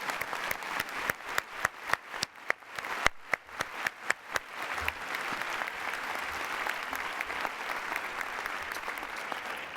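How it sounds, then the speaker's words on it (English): Applause breaks out at a university presidential investiture speech, starting as a few separate sharp claps that quickly swell into dense, sustained clapping from a large audience. "I don't usually applaud myself"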